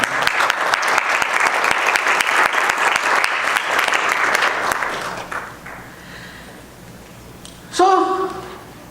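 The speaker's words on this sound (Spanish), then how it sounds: "Le pueden dar un aplauso, Señor." A church congregation applauds loudly for several seconds, dense sustained clapping that fades out, followed by a voice speaking near the end.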